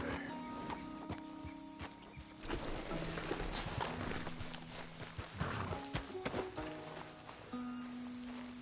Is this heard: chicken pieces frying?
no